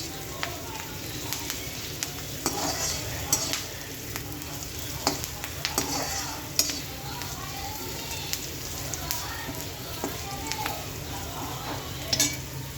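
Bottle gourd peel sizzles and fries in a pan with a steady crackling hiss, punctuated by occasional sharp stirring scrapes, while someone talks over it.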